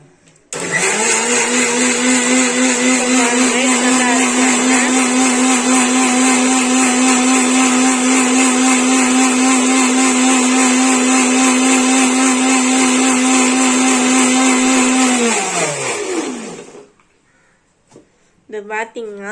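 A mixer grinder whirs loudly and steadily, grinding a mixture with ice water and oil for about fifteen seconds before spinning down, leaving a brief quiet with faint sounds at the end.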